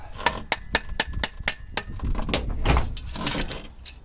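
A hammer strikes metal while repairing a crashed Vectra B CDX car: sharp metallic strikes in a quick, regular series of about eight blows, then looser clattering and handling noise.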